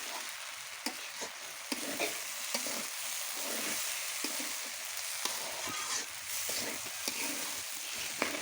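A spoon scrapes and stirs through thick khichuri in a pot, with soft sizzling underneath and occasional sharper clinks, steady and close.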